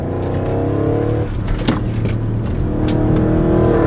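An Audi RS7 engine revving hard while driving, a loud continuous roar with rising and shifting pitch and brief crackles, heard alone without talk.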